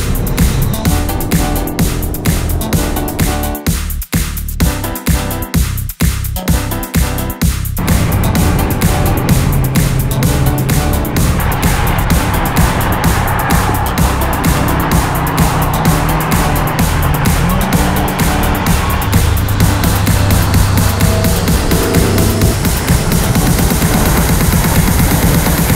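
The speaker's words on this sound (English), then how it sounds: "I'm gonna do a pull in a tunnel pull for you guys" A car pulling hard through a tunnel, the engine roaring loudly and echoing off the walls, with rapid crackling pops early on, rising in pitch as it accelerates, close and sustained.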